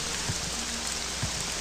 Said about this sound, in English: I can't even hear myself think because of all the rain going on.